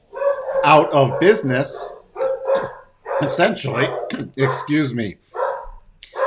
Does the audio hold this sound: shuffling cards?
no